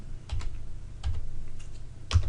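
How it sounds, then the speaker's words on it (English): A few separate keystrokes on a computer keyboard while entering a cost figure into estimating software, sharp clicks with gaps between them, close and clear over a low steady background hum. "if I type in"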